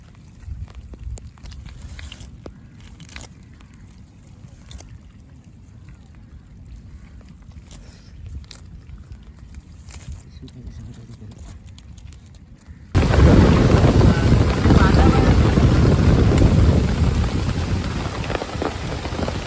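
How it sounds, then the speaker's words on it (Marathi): Rain falls outdoors by Vihar lake, a steady light patter at first that suddenly swells into a loud, dense downpour roaring on surfaces, with a faint low rumble underneath. "पाऊस आला छत्री घेऊ नका"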